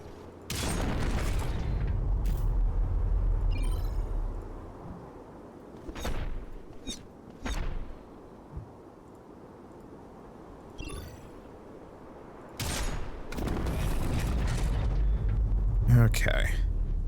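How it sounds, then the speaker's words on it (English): Area grenade explosions in the strategy game Heart of the Machine, sounding as a run of booming, broadband blasts with sharp transients, some clustered and others spaced apart, loud over a low rumbling game backdrop. "That is with the area grenade."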